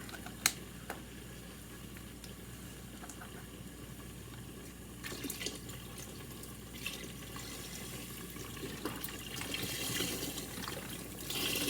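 Water poured into a gumbo pot, a quiet continuous stream and trickle of liquid that swells slightly toward the end, with a few small clinks, no one speaking.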